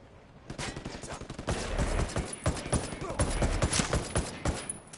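Rapid bursts of automatic gunfire in the tactical shooter Ghost Recon Wildlands, dense overlapping shots and volleys rattling almost continuously, with loud crackling reports layered over one another.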